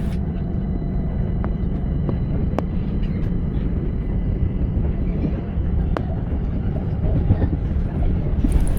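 A Southern passenger train rumbles steadily along the rails near East Croydon with a deep, continuous roar and occasional sharp clicks from the track, heard from on board.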